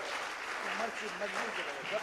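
Studio audience applause during a live TV quiz segment, a continuous bed of clapping under someone speaking over it.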